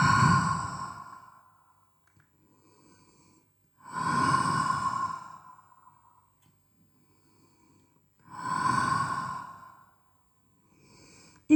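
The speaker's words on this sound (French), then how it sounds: "Je fais 3 respirations libres." Slow, deep breaths taken during a child's-pose stretch in a Pilates session, three long airy exhalations spaced several seconds apart, close and soft with near silence between them.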